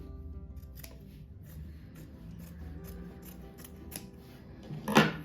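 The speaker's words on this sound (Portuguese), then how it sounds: "E daí cortar bem no meio aqui." Scissors cut through a folded square of denim jeans with a series of regular crunching snips close by, ending in a louder final cut.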